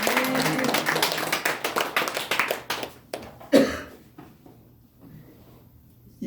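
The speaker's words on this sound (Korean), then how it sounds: "영광의 박수를 하나님과 또 올려드립시다." A church congregation at a Korean worship service for a church's fourth anniversary claps in brief, moderately loud applause that fades within a few seconds, followed by scattered taps and a cough in a quiet room.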